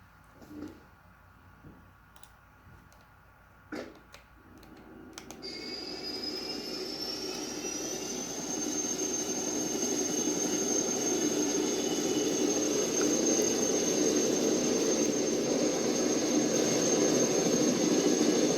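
An SH-2G Super Seasprite helicopter engine in a flight simulator game spools up after a few clicks, rising into a steady turbine whine and roar that grows louder and holds to the end.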